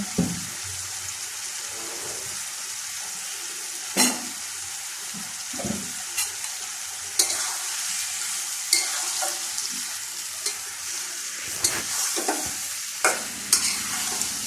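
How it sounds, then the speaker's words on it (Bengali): Chicken meat being mixed with spices by hand, a run of wet squelching and slapping sounds in irregular bursts, close and moderately loud, with occasional sharper knocks. "মাংসগুলি দিয়ে আমি আবার ভালোভাবে মশলার সাথে ভালোভাবে মিশিয়ে নিব"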